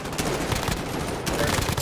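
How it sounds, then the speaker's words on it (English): Rapid bursts of automatic gunfire crackle continuously in a Call of Duty Warzone match, loud and dense with dull low thumps underneath, with faint voices in the mix. "Someone's shooting at us."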